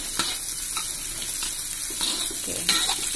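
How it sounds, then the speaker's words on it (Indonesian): Shallots, garlic and chili stir-fry in a pan, giving a steady hissing sizzle broken by scraping stirs and soft clatters, close and even, with no voices. "Kita tumis bawang merah, bawang putih dan cabenya hingga"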